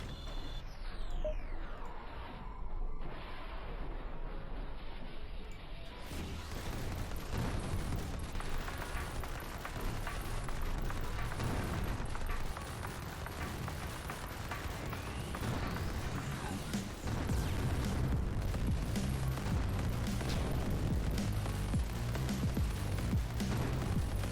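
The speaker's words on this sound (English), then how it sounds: "You see the artillery does a good job at doing AoE damage." Artillery firing in Mechs Vs Kaijus, a tower defense game: a dense, continuous barrage of booms and crackling explosions over about twenty-four seconds, busy and layered with a louder stretch near the end.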